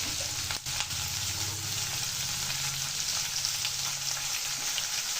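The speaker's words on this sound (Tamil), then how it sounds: "எல்லாத்தையும் சேர்த்து நல்லா வதக்கிடலாம்." Onion, green chilli and tomato sauté in a pan for semiya upma, a steady bright sizzle close up, with a brief stirring knock near the start and soft scraping.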